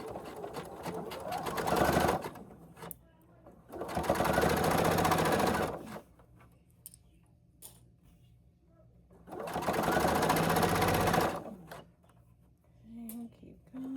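A sewing machine runs a quarter-inch seam in three sustained bursts of stitching, each about two seconds long, separated by quiet pauses with faint handling sounds.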